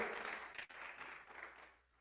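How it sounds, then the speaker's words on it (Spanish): A short burst of crowd applause during a church sermon, dense clapping that fades toward the end. "Dele un aplauso que valga la pena al Cristo de la gloria"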